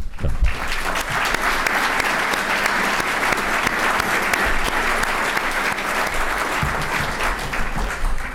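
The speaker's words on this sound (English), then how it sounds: "we give him a round of applause" A large audience applauds steadily for several seconds, a dense even patter of clapping with no talking over it.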